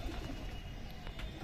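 Soft cooing of a small Teddy pigeon, low and murmuring, heard close up against a steady background hum with no talk.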